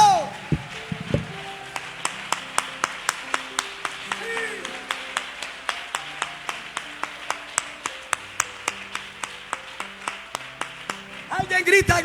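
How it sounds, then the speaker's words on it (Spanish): Rhythmic group clapping in a church service, steady evenly spaced claps throughout under sustained keyboard tones, with a brief burst of louder applause at the end. "Alguien aplaude al Señor esta noche"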